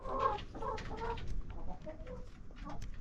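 Chickens cluck steadily inside a backyard coop with nesting boxes, several birds overlapping in a close, moderately loud chorus with no talking.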